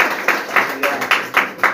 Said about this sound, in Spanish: ¡Dale fuerte palmas al Señor,